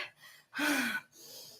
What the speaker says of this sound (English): I am breathing really, really hard.